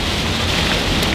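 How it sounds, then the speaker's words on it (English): Heavy rain pours during a flood warning, a dense, loud, continuous hiss and patter with no break and no talking. "Wow. This is a lot of rain."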